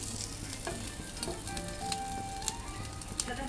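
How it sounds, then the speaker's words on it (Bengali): A single egg omelette with onion and green chilli sizzles steadily in a pan at close range, with faint chirping tones in the background. "মেয়ে এখন ডিমের অমলেট বানাচ্ছে"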